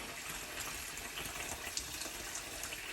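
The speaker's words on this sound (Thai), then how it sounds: "เอาเปลือกไข่มาล้างค่ะ" Tap water runs steadily over eggshells being washed under cold water in a sink, a continuous close splashing gush with small irregular spatters throughout.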